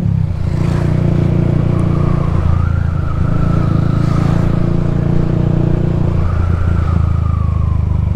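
A Yamaha Sniper 155R motorcycle engine runs steadily close by, its rising and falling revs forming a continuous droning note throughout, with no distinct backfire pops standing out.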